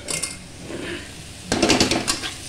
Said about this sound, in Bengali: এবার আমি দিয়ে দেবো মুসুর ডালটা।